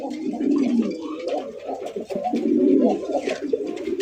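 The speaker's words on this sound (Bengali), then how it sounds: "বোম্বাই বোম্বাই কবুতর দেখতে পাচ্ছেন, ইন্ডিয়ান বোম্বাই, হলুদ কালার" Yellow Indian Bombay pigeons, a breeding pair with young, cooing in low, rolling, continuous calls that sit close and fairly loud, with faint background noise and no talk.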